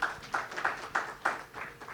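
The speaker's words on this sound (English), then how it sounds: "So a big round of applause for him," Audience applause for a panelist at a talent acquisition panel discussion: a modest, fairly distant patter of clapping with a few louder bursts, fading and swelling over two seconds.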